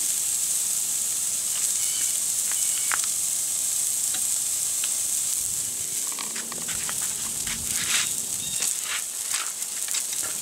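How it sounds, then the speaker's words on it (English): A 3-pound chuck roast sears over hot coals on a grill, giving a steady bright sizzle with scattered pops and crackles that grow busier toward the end, close and continuous with no talking. "we're just going to let that sit right over the hot coals for a few minutes and get some grill marks"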